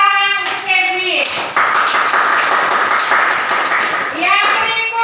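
Classroom applause for a student named Kevin, a burst of many hands clapping together that swells in after a spoken phrase, stays steady and dense for about three seconds, then fades back into talking.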